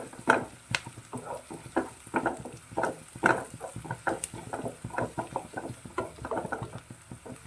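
Onions sautéing in a pan for Kerala fish molee, with an irregular run of scraping stir strokes and taps of a spatula over a soft, low sizzle, close and moderately loud.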